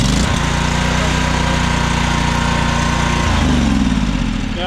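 An Exmark Lazer Z zero-turn mower with a swapped engine runs loud and close, a steady low droning rumble that shifts pitch partway through as the engine settles into running.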